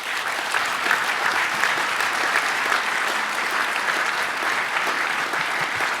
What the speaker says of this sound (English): So to Peter, a big round of applause